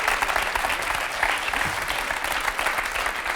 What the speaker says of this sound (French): on peut les applaudir très fort toutes les deux